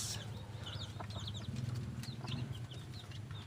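Young chicks peep in high, rapid chirps, fed on boiled egg and jelly, with clucking adult chickens close by and a low steady hum beneath.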